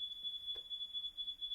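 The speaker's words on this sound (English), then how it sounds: "Wait, something's burning in my house. That's the fire alarm." A home smoke alarm sounds a steady, piercing high-pitched tone, faint and a little distant, with a brief soft knock partway through and no talking.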